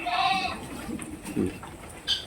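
Goats and sheep kept together on a farm bleat nearby, with one clear wavering call at the start and softer animal sounds and shuffling after it.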